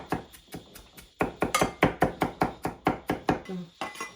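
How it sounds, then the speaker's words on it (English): A knife chopping red onion finely on a board, with about fifteen crisp, evenly spaced chops after a short pause, close and alone. "I'm going to chop it pretty fine in here"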